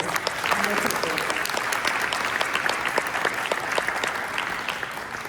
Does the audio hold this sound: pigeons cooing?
no